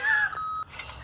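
An answering machine beep from the video game The Wolf Among Us: a short electronic tone followed by a second steady pitched tone, fairly clear and close, with nothing else over it.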